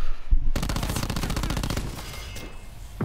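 Rapid automatic fire from an ICR rifle in Black Ops 4 rattles out in a loud, continuous burst of tightly spaced shots lasting about two seconds, then trails off into echo.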